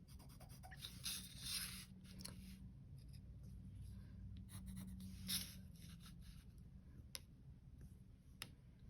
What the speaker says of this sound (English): I'm going to draw one more window.